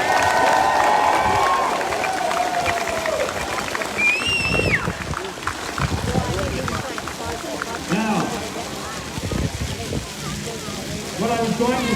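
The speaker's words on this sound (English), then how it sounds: "Give the sheriff one more round of applause." A crowd at an outdoor freedom rally applauds and cheers for several seconds, a broad wash of clapping with voices rising through it, loud and close.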